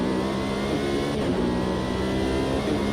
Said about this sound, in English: it's so loud because the engine is right there behind your ears